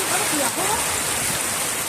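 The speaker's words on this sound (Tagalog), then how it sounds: "biglang buhos ng ulan" Heavy rain suddenly pours down in the countryside in a steady, dense roar, with voices faintly talking underneath.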